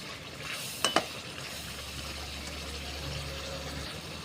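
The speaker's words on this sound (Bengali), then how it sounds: "তো আমরা টক দইটা দেওয়ার সাথে সাথে ভালো করে নেড়ে নিতে হবে, নাহলে কিন্তু দইটা কেটে যেতে পারে" A spoon stirs shrimp and pointed gourd curry with yogurt in a pan, with a soft steady sizzle throughout and a pair of sharp utensil clinks near the start.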